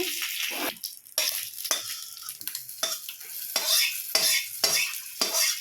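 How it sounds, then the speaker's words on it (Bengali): Dried red chillies, mustard seeds and curry leaves sizzle loudly in hot oil, a steady close crackling hiss broken by repeated stirring scrapes against the pan, with no talking. "শুকনো লঙ্কা দিলাম, সর্ষে দিলাম, আর কারি পাতাটা দিয়ে দিই"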